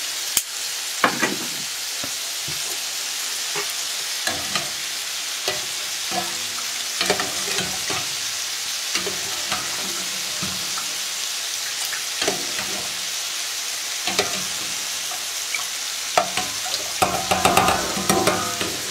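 Ground meat and garlic seasoning sizzle in a pan on a stove, a steady loud frying hiss broken by frequent scraping and clattering stirring strokes, no one speaking.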